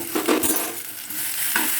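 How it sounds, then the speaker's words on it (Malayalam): A spoon stirs sliced plantain frying in ghee in a pan, brief scraping strokes over a soft steady sizzle, close and fairly loud, with no voices. "ഇതിലോട്ട് നെയ്യുമായിട്ട് യോജിപ്പിച്ചൊന്ന് എടുക്കാം"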